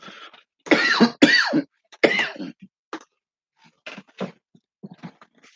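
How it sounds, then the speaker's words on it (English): Several harsh coughs in quick succession, close up, followed by quieter scattered throat sounds and pauses. "Damn, I'm coughing."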